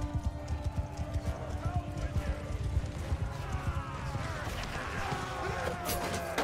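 Horse hooves clip-clopping steadily in Mount & Blade 2: Bannerlord, a rapid run of close, loud hoofbeats with a brief whinny mixed in and someone talking over the top.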